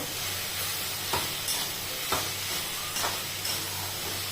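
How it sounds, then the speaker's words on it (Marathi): Ground peanut powder being stir-fried in a pan with a cooked vegetable dish, a steady soft sizzle with a few scraping stirs of a spoon, close and alone. "त्याच्यामध्ये थोडासा दाण्याचा कूट टाकायचा थोडासा टाकायचा एक दोन चमचे परतवून घ्यायचा"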